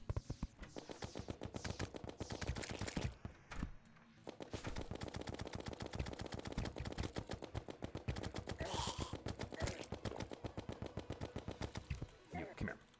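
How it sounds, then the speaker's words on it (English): Rapid automatic fire from the Minishark gun in Terraria, a fast steady stream of shots that runs nearly nonstop with a couple of brief pauses, loud and close, with speech-like voice layered in at points. "Mini shark go burr, mini shark go burr. My favorite thing to shoot is the mini shark."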